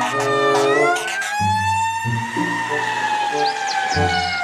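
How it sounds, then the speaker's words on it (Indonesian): A fire truck siren wails with a rising, sustained tone, loud and close, over a steady low hum. "Ini yang berikutnya, mobil pemadam kebakaran."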